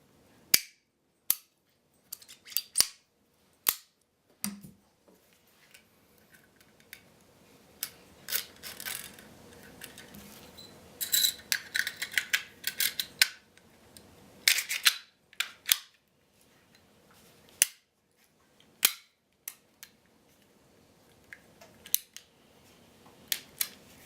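Makarov pistol being reassembled, with sharp metallic clicks, slides and snaps of parts fitting together, scattered irregularly and close, with quieter handling noise between.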